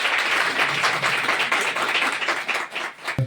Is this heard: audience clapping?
yes